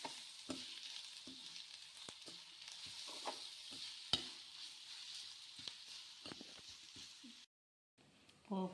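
Grated carrot stirred and frying in a spiced tempering for carrot pulihora, a faint steady sizzle with scattered soft scrapes and taps of a spoon, a brief sharper clack midway, then a short silence near the end.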